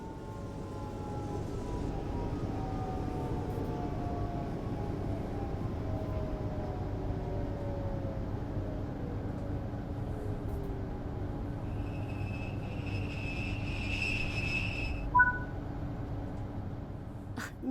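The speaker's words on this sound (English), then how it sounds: "The train has safely come to a stop" An S-Bahn train in the Train Sim World 4 game on the Vorarlberg line brakes to a stop, its steady low rumble fading under descending whines, with a brief high tone and a small thump at the end.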